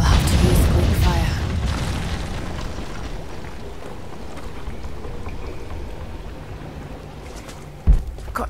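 Quick fire blast in Rise of the Tomb Raider: a heavy booming explosion with rumbling debris up front that slowly fades into a low tail, followed by a sharp thud near the end.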